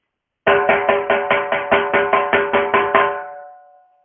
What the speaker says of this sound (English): You hit it so you hit roughly near the top